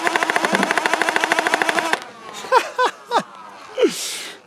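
A Nerf toy blaster fires in a rapid burst of about twenty even, close pops for two seconds, followed by a few short voiced sounds and a breathy rush.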